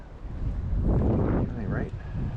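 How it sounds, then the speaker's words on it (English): Outdoors on a windy shoreline, gusts hit the microphone as a heavy, low rumbling buffet that swells and fades for a couple of seconds. "Wind, go away. Come on, wind."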